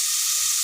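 Ground tomato, about three tomatoes' worth, hits hot masala in a pan for Kovilpatti chicken, giving a short, bright, steady sizzle and hiss heard alone.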